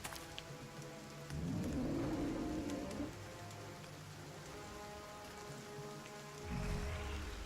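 Steady rain falls in the Battle Brothers video game, a continuous soft hiss that is heard on its own with no talk over it. Low, louder swells rise around the second and the seventh second.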